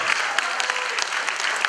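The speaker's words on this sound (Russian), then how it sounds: "аплодисменты тебе." An audience claps steadily and densely at a festive town-day concert, a sustained wash of many hands close by with no other sound standing out.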